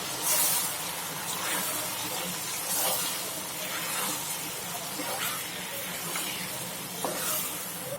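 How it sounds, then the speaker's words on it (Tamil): Flour stirred into hot oil for tamarind upma crackles and sizzles steadily as a spoon scrapes the pan in repeated strokes, close and moderately loud. "இந்த எண்ணெயிலேயே இந்த மாவை போட்டு கிளறணும்"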